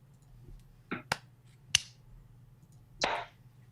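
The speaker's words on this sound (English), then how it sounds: "Everybody quickly give Colton a quick, like, one clap." At a youth fraternal group's meeting, members give single quick claps that land out of sync as four sharp, separate smacks over quiet background hum.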